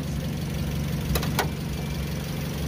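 A Suzuki Swift engine idles in Algeria with a steady, even low rumble. It stays close and constant throughout, with two brief faint clicks near the middle and no voices.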